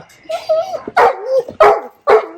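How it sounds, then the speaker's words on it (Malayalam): A dog barks several times in quick succession, sharp and close, with short pauses between the yips. "ആമയ്ക്ക് വേറൊരു പട്ടിയെ കിട്ടി കേട്ടോ"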